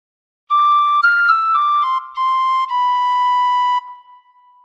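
Tin whistle plays a short phrase of the Star Spangled Banner, several clear sustained notes stepping between pitches with brief breaks, close and loud with no voices, ending on a held note that fades.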